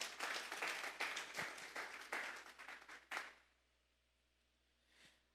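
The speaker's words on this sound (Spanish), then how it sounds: "Vamos a darle un fuerte aplauso pues al Señor" Congregation applause in a church service, a dense burst of many hands clapping for about three seconds that cuts off abruptly, followed by near silence and a faint distant murmur.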